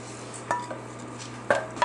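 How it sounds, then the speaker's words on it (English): Roast drippings and browned bits scraped from a pan into a crock pot: a faint, low scraping hiss broken by three sharp metallic clinks of a utensil against cookware, with no voices. "So I'm just going to dump this right inside the crock pot right here."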